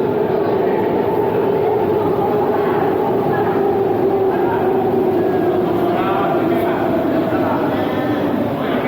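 An LRT 3 light rail train on the Shah Alam line rumbles loudly and steadily nearby, a low mechanical drone with faint squeals and rattles throughout as it arrives at the station.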